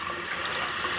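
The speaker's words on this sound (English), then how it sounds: "Just a nice little stream of water there, and turns off nice and smooth" A newly installed bathroom faucet runs a steady stream of cold water into the sink, a smooth continuous close-up splash with no talk.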